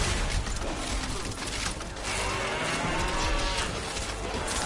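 A cow in a game moos loudly and close up. Two long, drawn-out lows fill the moment over a dense, noisy game background.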